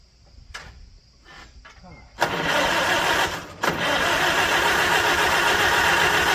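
A Farmall H tractor engine cranks and catches after repairs, then settles into a loud, steady running roar outdoors, with a brief dip in sound partway through and insects buzzing faintly before the start.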